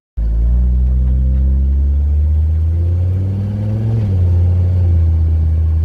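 Mercedes-Benz W123 300TD with an OM617 diesel engine on a test drive, a loud steady low engine drone heard from inside the car, with pitch easing and then rising again as it shifts and accelerates.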